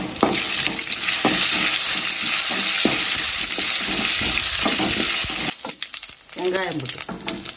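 Onion, tomato, spices and curry leaves sautéing in oil for an intestine curry gravy, giving a steady loud sizzle and frying hiss with stirring scrapes throughout, and a voice talks briefly near the end.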